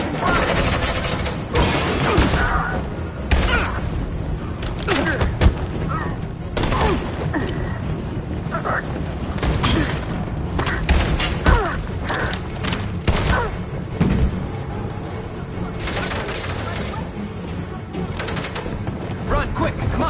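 Video game gunfire rattles almost nonstop for twenty seconds in heavy, overlapping volleys with occasional thuds and crashes, loud and near, with voices mixed in at times.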